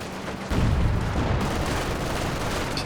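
Artillery barrage in Company of Heroes 2, a World War II strategy game: a heavy, dense rumble of blasts and gunfire sets in after a brief lull and holds loud and continuous.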